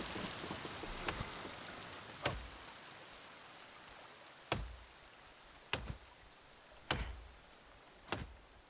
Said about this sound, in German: der Regen ist gerade so laut